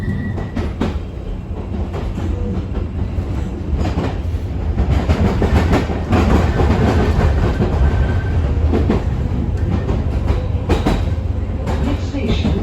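A London Underground Northern Line train pulls away from the station, a loud close rumble building as it departs, with rhythmic wheel clatter, rail clicks and a faint squeal riding over the steady roar.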